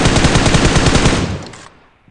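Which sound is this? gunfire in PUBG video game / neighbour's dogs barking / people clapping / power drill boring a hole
gunfire in PUBG video game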